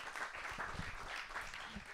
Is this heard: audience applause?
yes